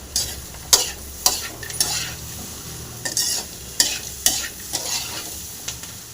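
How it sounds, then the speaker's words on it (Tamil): Bitter gourd and lemon sizzle in a pan while a spoon stirs them in regular strokes, each scrape knocking sharply against the metal over a steady frying hiss. The sound is close and there is no speech. "நல்லா ஃப்ரை பண்ணிக்கலாம்."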